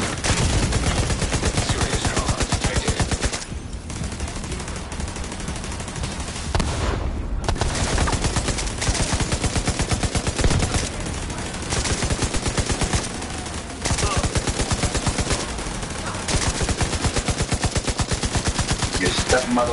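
Turret gunfire in a video game, a dense, loud, continuous stream of rapid shots that runs the whole time with only brief dips, like heavy automatic cannon fire.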